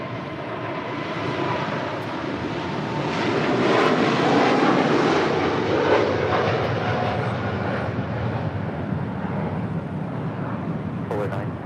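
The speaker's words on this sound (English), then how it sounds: "That is Polar 9601 departing to Seoul on the 747-8 freighter." A Polar Boeing 747-8 freighter departs runway 25 left at LAX for Seoul: a heavy, rumbling jet roar that builds to a peak and then holds steady, with voices in the background.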